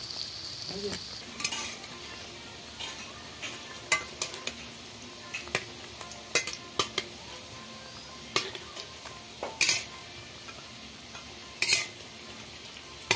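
Small pieces of semolina dough for motichur laddu deep-frying in hot oil, giving a steady soft sizzle with scattered sharp clinks of a metal utensil against the pan.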